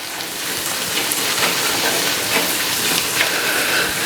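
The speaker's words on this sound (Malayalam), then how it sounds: "സവാള വഴന്ന് വരുന്നുണ്ട്." Onions sautéing in a pan for Kerala-style duck mappas give off a dense, steady sizzle and crackle, close and fairly loud, with no voices over it.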